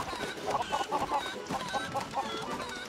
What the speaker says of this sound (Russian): Боже, курица, угомонись.